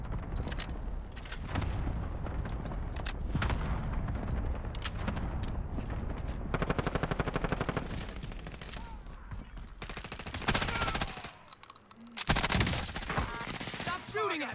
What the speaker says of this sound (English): Stop shooting at me.